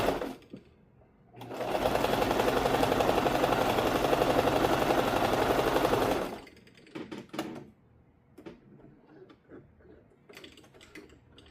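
A sewing machine runs in one steady, loud burst of stitching through quilt seams, then stops, leaving quieter scattered mechanical clicks and handling noises.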